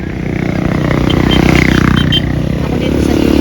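A motorcycle rumbles nearby, its engine growing louder and steadier as it passes, with faint voices in the background.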